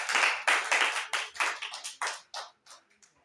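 A church congregation claps hands in a quick burst of applause that thins out into a few scattered claps and fades away.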